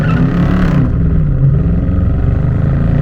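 A 2022 Dodge Charger R/T engine holds a loud, steady rev around 3,000 RPM for a launch, a deep throbbing roar heard up close that never drops away.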